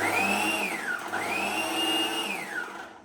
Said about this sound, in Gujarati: હવે આને આપણે છે મિક્સરમાં ક્રશ કરી લઈશું